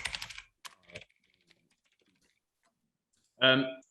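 Someone types on a computer keyboard while writing in a Jupyter Notebook code cell. A few quick light clicks sound up close, then a pause, then a short denser burst of keystrokes.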